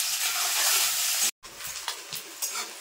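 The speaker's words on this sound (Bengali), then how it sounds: "এবার দিয়ে দেবো পেঁয়াজ কুচি।" Chopped onions tipped into hot oil already frying bay leaf, whole garam masala and cumin, giving a loud, steady sizzle and hiss that briefly cuts out, then returns with stirring scrapes.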